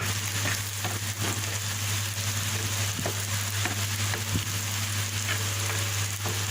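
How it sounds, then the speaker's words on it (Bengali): Boiled shrimp frying in a pan with onion and garlic, making a dense, continuous sizzle with scattered pops and crackles, close and steady beneath a low background hum. "এখানে পেঁয়াজ রসুন দিয়ে চিংড়ি মাছ দিয়ে এটাকে ফ্রাই করে নিচ্ছি"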